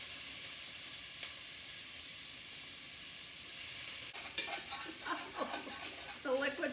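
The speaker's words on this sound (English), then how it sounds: "Now I'm going to start with the onions because I want them to just have a little bit more time" Onions hit a hot pan for Cajun red beans and rice and settle into a steady, soft sizzle and hiss, with stirring clatter near the end.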